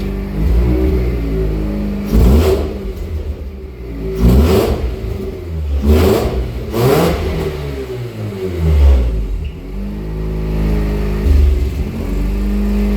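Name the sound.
engine revving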